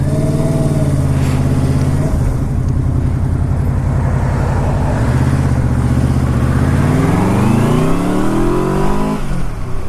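A Yamaha Royal Star Deluxe V4 motorcycle engine on the road, a loud, close, continuous roar with rising and falling revs as it accelerates and shifts.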